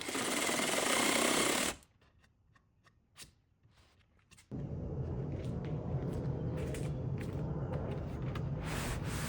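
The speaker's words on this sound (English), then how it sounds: "Having a jigsaw handy was essential for this build" A jigsaw fitted with a scrolling blade cuts wood for a truck bed camper build, a loud buzzing rattle near the mic, stopping for a quiet gap with light handling noises before resuming steadily.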